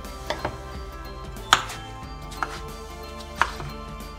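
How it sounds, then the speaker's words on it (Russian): A knife chops potatoes into small cubes on a board in a few sharp, separate strikes with pauses between them, close and fairly quiet, with no talking. "3 картофелины среднего размера нарезаю небольшими кубиками."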